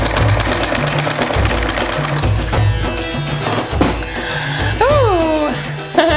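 A sewing machine stitching stiff patio cushion fabric for replacement outdoor furniture cushions, its rapid mechanical chatter coming in bursts that stop and start, with a voice talking over parts of it.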